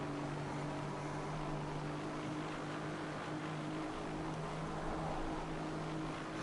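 A race car engine held at full throttle during the Nürburgring 24 Hours at dawn, a steady, loud, unbroken drone with strong low harmonics and no letup across the whole stretch.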